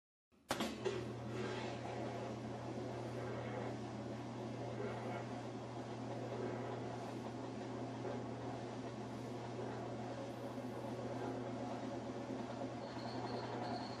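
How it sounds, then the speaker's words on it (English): Whirlpool washing machine on a spin cycle after a skate plate reset: a steady low hum and whir starting abruptly and running continuously and loud, with a faint higher tone entering near the end. "try the washer on the spin cycle to see how it works now"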